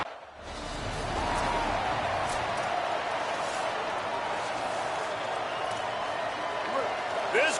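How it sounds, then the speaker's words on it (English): Steady crowd roar fills Kenan Stadium during a college football video game, a broad continuous wash of cheering that holds loud and even throughout with no clear breaks. "This crowd trying to show them what it's going to be like all day in this house."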